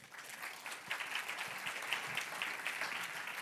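An audience at a health-day awards ceremony in Lyon gives warm, steady applause, a dense patter of clapping hands throughout with no one speaking.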